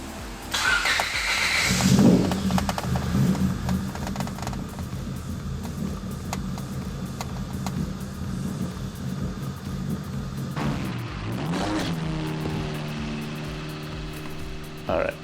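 A freshly rebuilt Honda B18C5 engine cranks, catches and settles into a steady running drone, with a brief rising rev later on and voices talking nearby.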